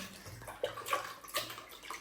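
Siruvani water running from a household tap, a steady faint trickle with light splashing and gurgling, close by and alone without talk.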